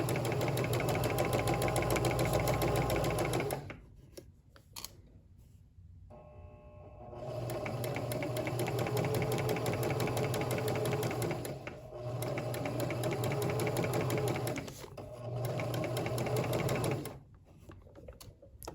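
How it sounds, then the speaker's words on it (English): Sewing machine stitching a pillow seam, running in long steady whirring bursts separated by brief pauses, close and clear with no talk. "I'll keep sewing. I'll take out my pin as I sew."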